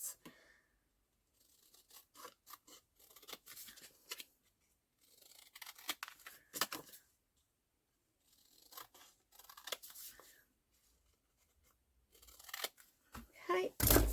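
Scissors snip paper while trimming a page for a vintage-themed tall and skinny journal, with short crisp cuts in several bursts separated by pauses, close and fairly quiet.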